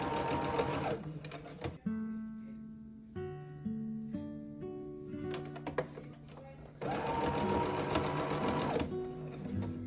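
A sewing machine stitches lace onto a nightgown, running in two sustained whirring bursts at the start and end, with a quieter stretch between them.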